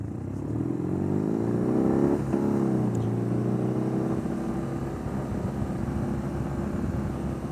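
A 2021 BMW R nineT Urban GS motorcycle at speed on a twisty road, its boxer engine droning loud and steady close by, rising and falling in pitch as the rider shifts and rolls the throttle, with constant wind rush throughout.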